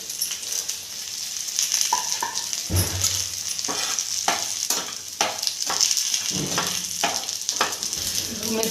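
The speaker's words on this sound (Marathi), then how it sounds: "धने पण थोडेसे परतून घेणार आहे छान वास सुटीपर्यंत धने परतून घ्यायचे" Coriander seeds roasting in a pan on the stove give a steady close sizzle, broken by sharp scraping knocks and stirring clinks through the middle and end.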